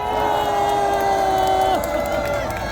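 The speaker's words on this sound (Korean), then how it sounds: "이 유튜버들에게 큰 박수 부탁드립니다" A crowd cheers and applauds at a rally against impeachment outside the Constitutional Court, a steady roar with whoops, while sustained tones like horns or amplified sound run through it for about two seconds before dropping away.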